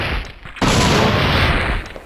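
A new gun fires in the video game Dino Crisis 2, producing a sudden loud, close blast that swells into a sustained roar lasting a second and a half.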